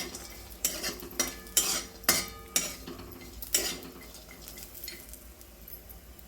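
Grated coconut is stirred while roasting in a little oil in a pan. A utensil scrapes and clinks against the pan in about eight sharp, evenly spaced strokes under a soft background sizzle, with no voices.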